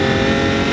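A Lamborghini Aventador accelerating hard, its engine roaring loud, close and steady throughout a brief pull.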